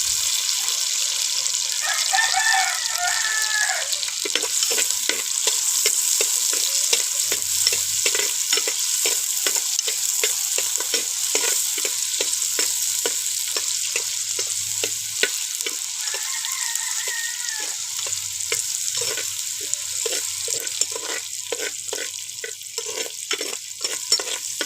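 Shallots and onions sauté in oil for a fish curry, with a constant close sizzle and a rapid run of scraping stirs against the pan, and faint tapping water in the background.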